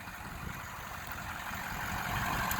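A stock-exhaust 2006 Ford F250 King Ranch FX4 Powerstroke diesel idles steadily nearby, a constant low rumble with broadband clatter that grows slightly louder over a few seconds.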